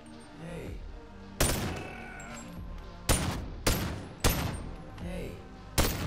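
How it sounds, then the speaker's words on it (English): Single loud gunshots from the player's weapon in a video game demo, five sharp reports spaced about a second apart, each with a short decaying tail over a quiet background. "the player can fire a weapon right near the enemy"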